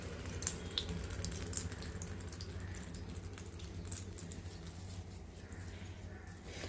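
Water is pressed slowly out of hung curd for saffron shrikhand, making a soft, continuous trickle and wet dripping at close range with no voices.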